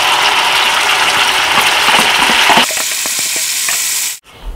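Loud, dense sizzling fills a kadhai, then ground tomato and red chilli chutney hits it and the frying turns choppy with stirring scrapes before cutting off abruptly.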